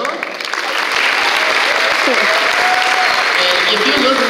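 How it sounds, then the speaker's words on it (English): Applause for the trumpet player at a mariachi performance swells quickly into a dense, steady clapping crowd that holds at full strength, with a few voices mixed in. "And then on trumpet, another round of applause for Victor Alcacero."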